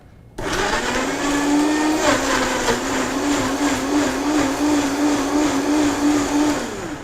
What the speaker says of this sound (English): Fire your blender up.